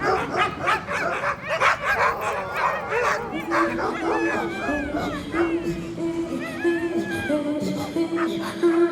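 Inuit throat singers imitate small dogs with rapid rhythmic yips, whimpers and breathy barking pulses, trading close, loud calls that shift into higher, wavering whines.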